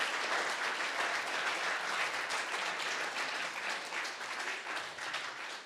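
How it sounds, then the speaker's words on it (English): Sustained applause from an audience at an intern symposium, dense and even clapping that holds steady for several seconds before tapering slightly. "Can we get one last round of applause for Miss Kama Poi Poi?"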